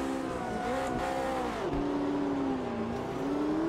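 A McLaren race car engine screams at high revs during a five-lap multiplayer race at Spielberg in Automobilista 2, its steady whine dipping and climbing with gear changes and throttle, heard up close with no talk over it.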